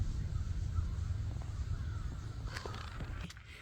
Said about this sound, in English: These crows are there.